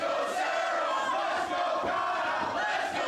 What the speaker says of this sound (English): Crowd a little bit split in terms of who they've chosen to support in this matchup